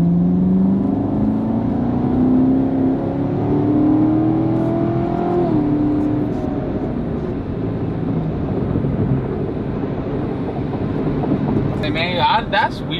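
A C7 Corvette driving on a street in Mexico, with a steady engine drone and road and wind roar throughout as the car accelerates, loud and close from inside the cabin, and a brief voice at the very end.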